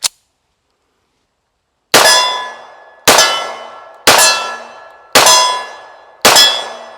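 Five loud steel clangs at roughly one-second intervals, each ringing and decaying, as a 1911A1 pistol fires a magazine at steel targets, after a brief sharp click at the start.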